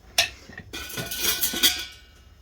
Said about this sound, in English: we're going to whisk it like anything